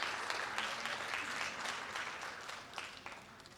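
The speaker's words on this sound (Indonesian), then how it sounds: "Beri tepuk tangan untuk mereka." Audience applause at a church camp session: a dense, steady wash of clapping from many hands that gradually thins out toward the end, moderately distant.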